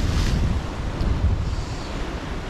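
Wind blows across the mic at a river's edge during fishing, producing a continuous rumbling buffet with a faint wash of water underneath and no voices.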